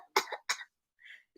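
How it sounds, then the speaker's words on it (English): A reader performs two or three short, dry coughs in quick succession at close range during a reading of The Little Prince, followed by a faint throat-clearing sound. "she coughed 2 or 3 times in order to put the little prince in the wrong"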